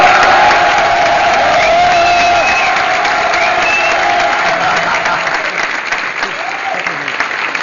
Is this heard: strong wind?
no